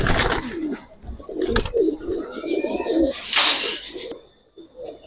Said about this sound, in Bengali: এটা পুরান জাতের সিলভার কবুতর